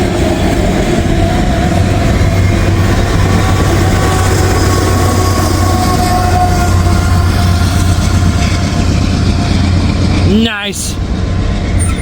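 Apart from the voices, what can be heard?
CSX freight train with DPU locomotive passing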